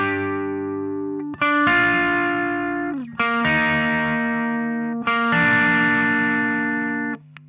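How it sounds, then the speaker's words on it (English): An electric guitar played through a Lowrider overdrive pedal rings out in three loud, sustained distorted chords, each struck with a brief scrape between them, alone and close. "So just the Lowrider by itself sounds like this."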